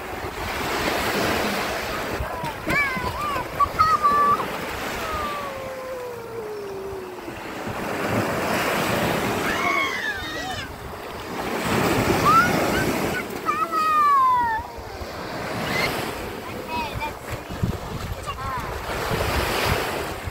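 Sea waves washing onto a resort beach at a falling tide, surging and receding in loud rolling swells with strong wind buffeting, while voices and children's shouts rise faintly in the background.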